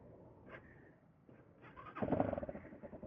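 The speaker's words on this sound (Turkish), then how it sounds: "Egzozu deldirdim arkadaşlar. İsterseniz şöyle küçük bir sesini dinleyelim." A motorcycle with a drilled exhaust idles with a rough, popping exhaust note, then revs up loudly into a throaty, uneven rumble.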